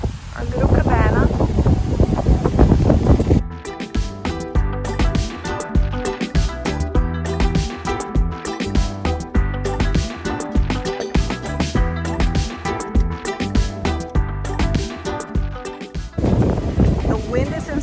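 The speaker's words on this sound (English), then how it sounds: "The wind is insane." Strong wind blowing on a beach at a Rio Grande, Puerto Rico resort, heavy roaring microphone buffeting at the start and end, with a loud stretch of music in between.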